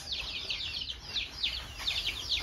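Ten young chicks of a laying breed peep in quick, high, repeated chirps that come in small clusters over a low steady background hum, near and moderately loud, with no voices.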